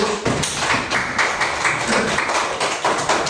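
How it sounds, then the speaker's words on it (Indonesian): A class of students claps together in a classroom, a steady stream of overlapping hand claps at close range that keeps going without pause. "Tepuk tangan dulu buat jaga 100."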